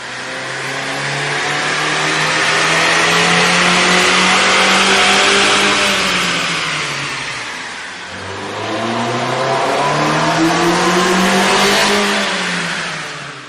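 A car engine fitted with a K&N 69-6033TTK air intake revs loudly and alone, climbing in two long sweeps with a brief dip between them, its deep tone rising steadily as the throttle opens.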